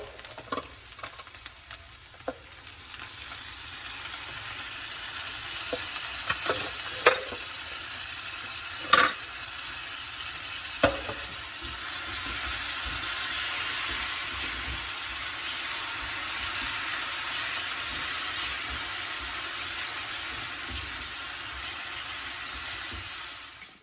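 Onions and crushed tomatoes fry in a pan on a home stove, a steady sizzle with a few sharp clinks and stirring scrapes early on, then a continuous hiss.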